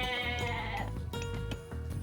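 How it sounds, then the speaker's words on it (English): A goat in the real-time strategy game Age of Mythology lets out one short, wavering bleat over quiet in-game background music, fading within about a second. "He has a good number of goats in the field."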